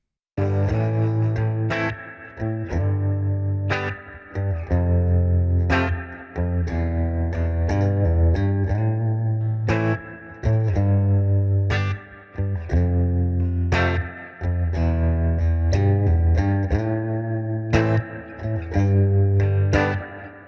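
Heavy, sludgy distorted electric guitar chords ring out through an amp, sustained and repeating in a slow pattern with brief gaps between phrases.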